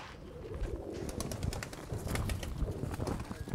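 Mardin pigeons in a loft coo softly and repeatedly, with low throaty calls over a steady background hum and some faint rustling.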